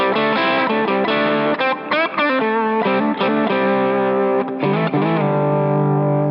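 Distorted electric guitar plays sustained two-note chords in fourths, shifting through several positions, loud and aggressive, with no talking.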